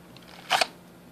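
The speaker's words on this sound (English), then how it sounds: "Here's the noise. I'm drawing the gun." A handgun is drawn from a Kydex holster within a foot of the microphone, making one short, sharp plastic click-and-scrape in an otherwise quiet room.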